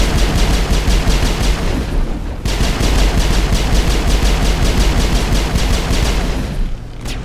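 Rapid automatic gunfire from a machine gun pistol in the video game Mass Effect, loud dense bursts of regular rattling shots with a short break partway through, then firing resumes until near the end.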